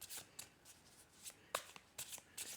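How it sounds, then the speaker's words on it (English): Tarot cards are given a quick hand shuffle, a run of soft papery riffles and flicks in short bursts with brief pauses, close and fairly quiet, with no voices. "I have pre-shuffled the cards, and I will give them a quick shuffle for you"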